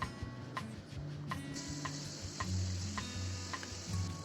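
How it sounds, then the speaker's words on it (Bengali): Bata fish frying in hot oil, a steady dense sizzle with a sustained hiss and regular light ticking clicks, close and fairly quiet, with no voices. "এখন পরের ব্যাচটা ভেজে নেব একই রকমভাবে"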